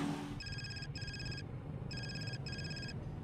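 A phone ringtone for an incoming call plays as a bright electronic tone in four evenly spaced repeating bursts, loud and clear over a low background hum.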